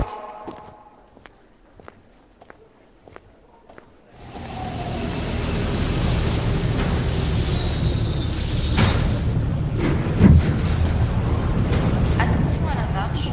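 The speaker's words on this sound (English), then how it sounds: "Just riding the tram, man." Tram arriving and carrying a rider in the Project Terminus VR video game: quiet footsteps first, then a loud steady rumble of rolling train with wheel screech and clatter, while a person talks over it.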